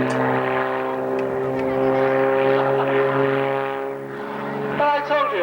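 Propeller aerobatic aeroplane flying a Lomcevak manoeuvre at an air show, a loud sustained engine drone with shifting pitch as it tumbles, steady and close throughout.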